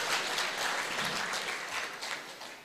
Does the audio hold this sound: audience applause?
yes